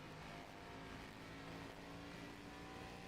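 Race car engine held at full throttle in an ARCA racing video game at Phoenix Raceway, a steady, dense drone that runs unbroken and fairly quiet throughout.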